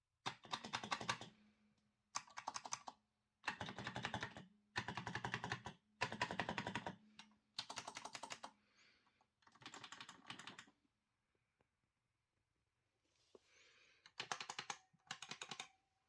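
Omron 49 gram switches on a YuanCon Sound Voltex controller clack in quick bursts of rapid presses separated by pauses, close and crisp with no talking.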